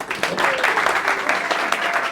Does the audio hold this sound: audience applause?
yes